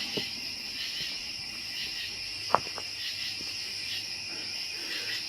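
A constant chorus of crickets trills evenly outdoors at night, with frogs also out, one brief sharp knock near the middle and scattered soft rustling below.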